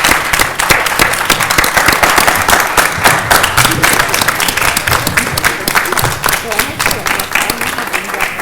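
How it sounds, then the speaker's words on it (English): An audience at an HBCU presidents' forum applauds a panel, dense sustained clapping from a crowded room that stays loud throughout, with some voices mixed in. "please join me in giving a round of applause for our outstanding panel today"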